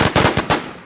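Rapid bursts of automatic gunfire in the video game Infestation: Survivor Stories, five or six close, loud shots fired in quick succession over under a second before trailing off.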